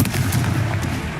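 A Confringo fire spell bursts in the video game Hogwarts Legacy, a dense, loud crackling blast with heavy low rumble and rapid popping that fills the whole short moment without pause.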